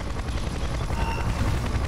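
Helicopter in the video game Splinter Cell Conviction, a loud continuous rotor thrum with heavy low chopping close by, steady throughout the short stretch.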